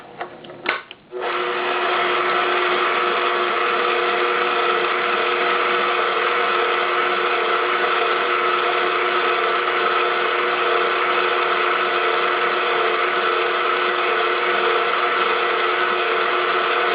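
Electric mixer whirring steadily as it beats cheesecake batter, a constant motor drone with a clattering, ratchet-like texture, loud and close, starting after a brief scrape and running alone throughout.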